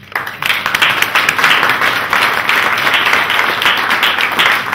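Steady applause from a crowd at a summer art show in Lonzac, many hands clapping continuously without a break.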